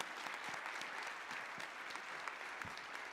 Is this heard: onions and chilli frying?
no